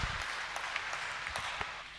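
A church congregation claps together at a service, a brief burst of dense, even applause that holds steadily and fades slightly at the end.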